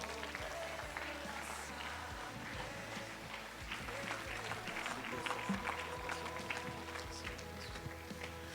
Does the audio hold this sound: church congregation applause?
yes